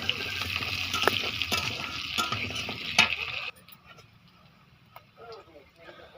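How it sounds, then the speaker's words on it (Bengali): Cumin seeds and bay leaf sputter in hot oil as a tempering for a fish curry with potatoes and green tomatoes, a bright crackling sizzle with stirring and utensil clinks that drops off sharply after about three and a half seconds. "জিরে তেজপাতা ফোড়ন দিয়ে দিলাম"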